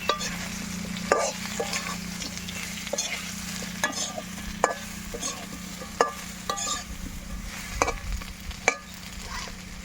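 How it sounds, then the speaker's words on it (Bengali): Fish pieces fry in a pan with a mango-based sour sauce, a soft steady sizzle under frequent sharp stirring scrapes and knocks of a spatula against the pan, no talking. "এখন এর সাথে মাছগুলো দিয়ে আর একটু ভেজে নেব"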